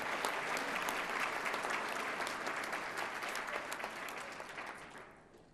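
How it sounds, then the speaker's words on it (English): A room of people gives sustained applause for standing honorees at a women's equity anniversary gathering, a dense even clatter of many hands that fades out near the end. "But let's give them the applause, those who are standing, please."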